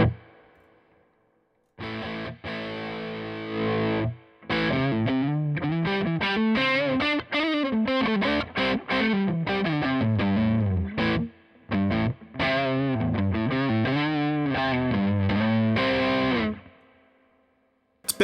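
Electric guitar played through a Wampler Pantheon Deluxe bluesbreaker-style overdrive pedal with the gain switch raised, giving a compressed, hard-clipped crunchy tone in loud, busy chord-and-lead phrases with short pauses.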